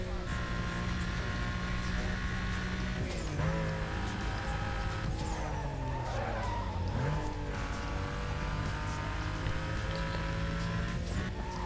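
Porsche Cayman racing in Need for Speed: Most Wanted, its engine droning steadily with shifting pitch, brief tire skids and squeals, and a rival car roaring nearby throughout.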